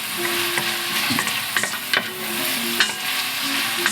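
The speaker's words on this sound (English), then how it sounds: "Now you want to stir this constantly, keep it from burning" A spoon stirs tomato bisque with cream in a pot, soft scraping and gentle bubbling sizzle with scattered clinks against the pot, quiet and close, faint music underneath.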